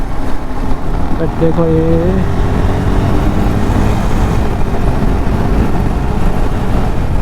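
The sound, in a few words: KTM RC390 motorcycle engine running while riding gently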